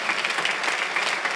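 A congregation claps during a Sunday church service. The applause is dense and sustained, spread through a hall at moderate distance, and carries no talk over it.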